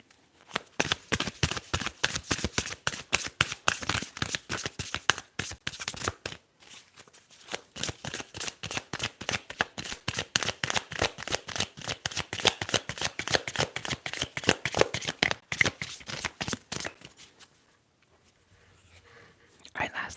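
Tarot cards being shuffled close up in a soft, intimate setting: long runs of crisp, rapid riffling clicks, a brief pause midway, then the shuffling fades into quiet.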